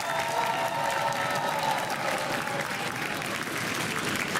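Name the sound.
audience applause on a school quiz show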